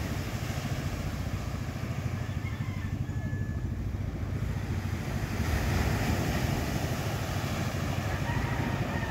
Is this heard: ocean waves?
yes